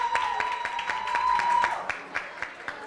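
Brief applause from an audience at a graduation ceremony, a short patter of clapping that fades quickly within a few seconds.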